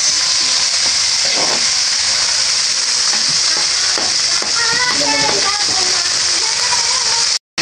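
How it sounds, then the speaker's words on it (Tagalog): Squid sautés loudly in a pan, a dense hiss of frying under stirring clatter and scraping, with brief speech-like sounds partway through, about two kilos cooked for adobo sa gata. "Ginigisa na rin po ni tito ninyo yung ating pusit."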